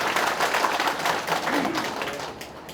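An audience at a county town-hall gathering applauds, a brief burst of many hands clapping at moderate distance that tapers off toward the end.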